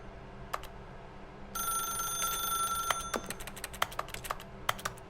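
A telephone rings in The Stanley Parable: Ultra Deluxe, a steady electronic trill that begins partway through and runs about a second and a half, followed by a string of sharp clicks and taps.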